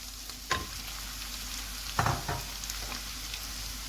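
Steady sizzling of tomatoes frying in a pan with fried garlic, with a few sharp clinks and scrapes of stirring, close and continuous.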